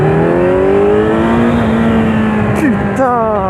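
A Kawasaki Z900 motorcycle, roughly 1000 cc, accelerates up close, its engine note rising steadily, dropping at a gear change, then climbing again, loud and continuous.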